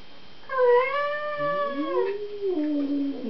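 An angry cat lets out a drawn, wavering yowl that rises and falls, then a second lower moaning growl-like call follows, close and fairly loud with no talking.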